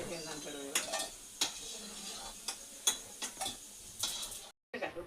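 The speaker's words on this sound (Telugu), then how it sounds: "ముందుగా చేసి పెట్టుకున్న ఉండలన్నిటిని ఇలా ఆయిల్లో వేసి డీప్ ఫ్రై చేసేసుకోవాలి" Gulab jamun dough balls deep frying in hot oil, a steady sizzle punctuated by sharp clinks of a utensil against the pan, with a brief silence near the end.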